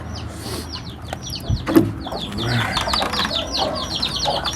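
High, rapid peeping of chicks fills the space in overlapping bursts, with a louder cluck or clatter near the middle.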